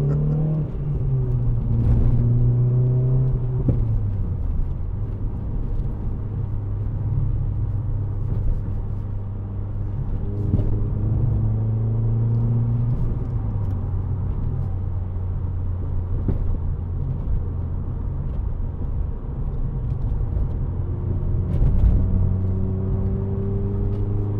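A 2010 Renault Clio 2.0 VVT Renaultsport three-door hatchback drives on the road, its engine note rising and falling through several gear changes with steady rumble and whir, close and continuous, without talk.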